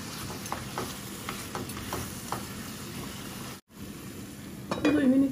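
Shrimp frying in a pan with bottle gourd, a steady sizzle under repeated scraping stirs and light utensil clinks, close and moderately loud, with a brief dropout near the end.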